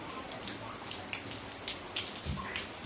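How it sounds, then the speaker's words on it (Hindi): Rain falls steadily on an evening with dark clouds overhead, scattered drops pattering on surfaces with soft irregular ticks over a constant hiss, fairly quiet and close, with no voices. "यहाँ पर बारिश स्टार्ट हो गलो"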